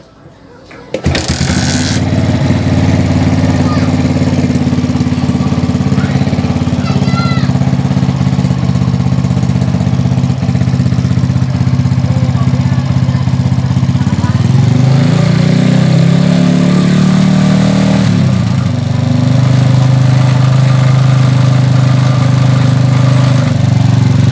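A Suzuki Shogun SP 125 motorcycle engine starts abruptly and settles into a steady, low idle while it warms up. The close, continuous putter holds even throughout, with only a brief wavering near the end.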